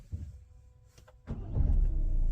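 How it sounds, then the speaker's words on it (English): A 2023 Peugeot Partner engine starting on a newly programmed key: a short crank followed by the engine catching and settling into a steady idle, close and clear. "Make sure that it starts in the ignition."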